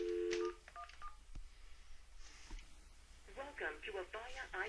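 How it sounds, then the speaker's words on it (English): Dialing on an Avaya IP Office desk phone: a short run of DTMF keypad tones right at the start, then a brief click and faint background. Near the end, an automated voice speaks from the phone system. "Notice I can see each digit pressed."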